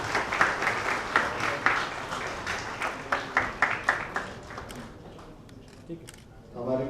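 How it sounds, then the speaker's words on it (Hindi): Audience at a 2018 coaching-institute award function clapping for the chief guest, scattered individual claps that thin out into sparse taps, with talk at the very end. "जोरदार तालियां प्लीज"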